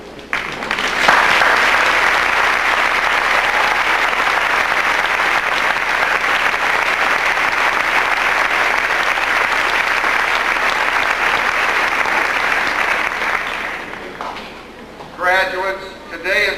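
A high school graduation audience in 1992 gives the parents long, sustained applause. It swells after a second and holds for about thirteen seconds, then dies away as a voice starts speaking over the last claps.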